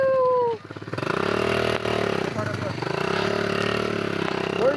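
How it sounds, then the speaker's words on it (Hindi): Motorbike engine running after a kick start, a close, loud, steady idle with rhythmic pulsing that briefly rises and settles. Voices can be heard near the start. "हाँ अब स्टार्ट हो चुका है मोटर बाइक।"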